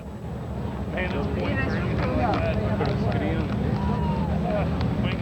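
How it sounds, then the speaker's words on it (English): Helicopter passing over a military parade, a steady low rotor roar that fills the clip beneath people talking and exclaiming nearby in a crowd. "More helicopter."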